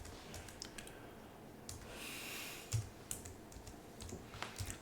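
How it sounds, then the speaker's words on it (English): Typing on a computer keyboard while working in Linux Mint 22.1, sparse quiet key clicks in short irregular bursts over a soft background hiss, fairly faint. "if I type it in correctly"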